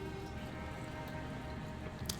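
Scalding Rain, a spell effect in the video game Wildermyth, plays as a continuous patter of falling drops over a low steady hum, with a brief brighter splash near the end.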